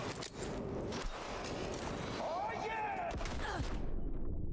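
Sniper rifle gunfire in a video game, sharp reports cracking out a few times over a busy background of game noise and talk.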